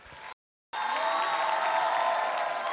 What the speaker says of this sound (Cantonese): 俾啲掌聲兩位先